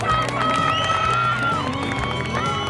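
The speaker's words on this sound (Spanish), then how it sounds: "Fuerte el aplauso para los campeones" Spectators at an Argentine polo championship clap and cheer for the winning team, a continuous wash of applause under an announcer's amplified voice.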